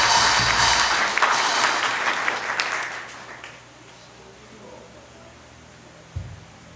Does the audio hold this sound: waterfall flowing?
no